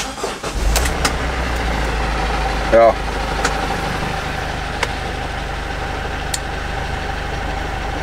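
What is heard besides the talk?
old emergency doctor vehicle 130 hp engine starting and idling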